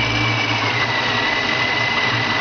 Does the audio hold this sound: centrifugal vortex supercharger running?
yes